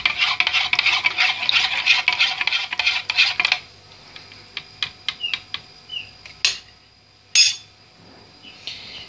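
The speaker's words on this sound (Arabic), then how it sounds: "وهحط على الميه عسل اسود شويه كده برضو، يعني قد معلقه كده برضو، قلبها بس" A spoon stirs black molasses into water in a cup, giving a quick run of rhythmic scraping and clinking for a few seconds, then sparse, sharper taps and clinks with pauses between.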